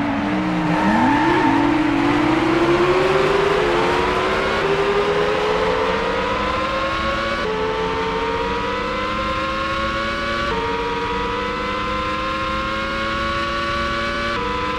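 A McLaren Formula One car at the Japanese Grand Prix in 2000 screams past with a loud, sustained high-revving engine note, pitch dipping and climbing through gear changes in a steady whine.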